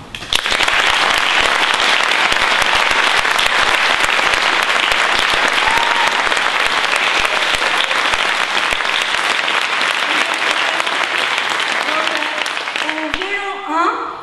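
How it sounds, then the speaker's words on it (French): A concert audience gives long, sustained applause for volunteer musicians, a dense, loud wash of clapping from a full hall that holds steady and fades only in the last couple of seconds. "je voudrais d'abord qu'on applaudisse les musiciens"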